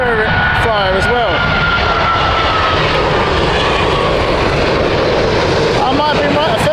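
Airliner on its approach into Heathrow Airport in crosswinds, a loud continuous engine roar with heavy wind buffeting on the microphone and shifting whining tones, a voice talking intermittently over it.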